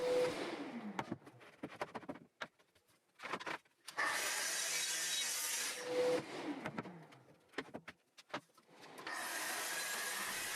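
A saw cuts birch plywood strips against a stop, with whining bursts of cutting separated by clicks, knocks and short quiet gaps, the last cut running steadily to the end, close and fairly loud.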